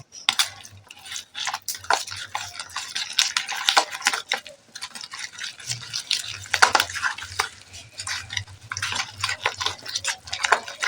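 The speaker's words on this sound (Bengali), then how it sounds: "এবারে একটি চামচের সাহায্যে এইভাবে ভালো করে ফেটে নেব" Sesame paste with chilli powder, salt and turmeric beaten with a spoon in a bowl, giving repeated close scraping and tapping clicks in an uneven rhythm, with a low hum in the background.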